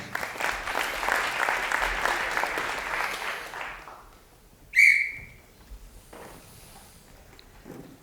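A crowd at a college science competition claps for about four seconds, then the applause fades out; a sharp whistle cuts in briefly, followed by scattered faint noises in a quiet room.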